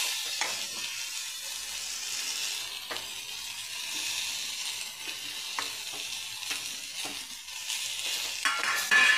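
Brinjal, potato and peanut powder stir-fried in oil for a Maharashtrian vegetable bhaji, a soft constant sizzle punctuated by a series of sharp scraping strokes from a spatula against the pan, close and fairly quiet.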